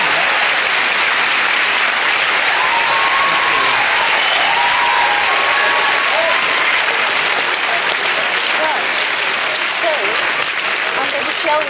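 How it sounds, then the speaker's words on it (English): A studio audience at a comedy news show breaks into loud, sustained applause that fills the whole stretch, dense and close, with a voice briefly audible over the clapping. "that is worth a round of applause."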